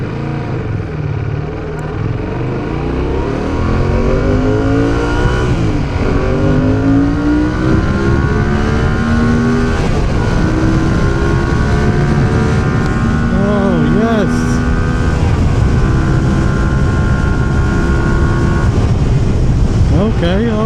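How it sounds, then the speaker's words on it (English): Fantic Caballero 700 motorcycle accelerating hard from a slow start, its exhaust rising steadily in pitch through the gears, loud and close throughout. "The exhaust makes a lovely sound."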